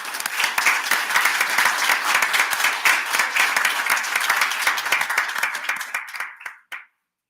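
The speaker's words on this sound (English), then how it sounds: "So if we can give them a round of applause." Audience applause at a city commission meeting, dense clapping from a crowd sustained for several seconds before tapering off and stopping abruptly.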